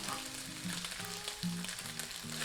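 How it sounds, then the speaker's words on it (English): Beef pieces sizzling in a hot wok while being stir fried for a Thai beef stir fry, a steady close crackle with occasional clatter as the meat is tossed around. "Now I'm going to start stir frying. Flip it all around the wok,"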